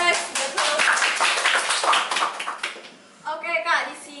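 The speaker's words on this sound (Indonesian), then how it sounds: "Tepuk tangannya dong guys." A talk-show audience claps in a sustained burst of applause that fades out, followed by a voice speaking.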